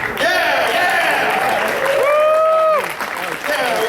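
Audience applause at a convention panel at Everfree Northwest 2023, a steady, dense wash of clapping and cheering from a crowd, with whoops and loud voices riding over it throughout.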